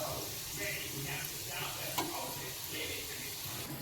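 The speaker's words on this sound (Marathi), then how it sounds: "छान सोनेरी रंग येईपर्यंत हा लसूण तेलामध्ये तळून घ्यायचा" Garlic frying in oil, a continuous close sizzle with soft crackling and a light stirring scrape, steady and unbroken throughout.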